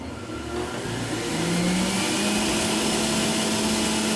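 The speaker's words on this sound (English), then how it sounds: "It's not near as noisy as a smoothie machine like the Nutribullet, so it shouldn't be too bad." A Breville Juice Fountain Elite juicer motor running steadily, a loud continuous whine that rises as it spins up in the first second and then holds, with no talking.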